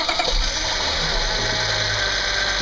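A Honda car engine idles steadily at close range during a power steering fluid change, an even droning hum with a faint whine and no voices.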